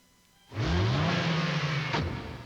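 An Oldsmobile Quad 4 16-valve, 150-horsepower four-cylinder engine bursts from near silence into a loud rev, holds a strained whir, then releases as the note drops away, with no talk over it.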